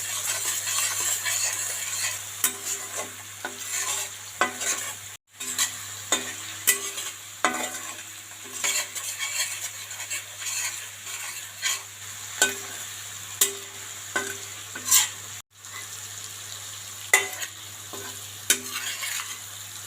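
Red chili paste masala fries in a pan, sizzling steadily while a spoon stirs and scrapes against the metal in regular, repeated strokes, close and clear with no talk.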